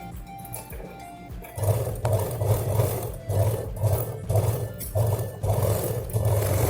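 A sewing machine stitches a zipper seam on a cloth purse made from a blouse piece, running in repeated short bursts after a quieter lead-in, close and fairly loud with no talk.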